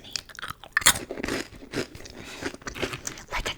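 Crunchy sweet cinnamon puff snacks are bitten and chewed up close, giving a run of dry, crackly crunches in irregular bursts with no talking.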